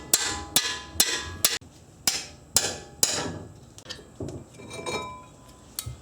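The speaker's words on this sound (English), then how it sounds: "so 17 mil wrench and a 3-pound hammer" A 3-pound hammer strikes a 17 mm wrench on a brake rotor fastener repeatedly, about ten sharp ringing clanks at uneven intervals, close by, with brief metallic decay after each blow.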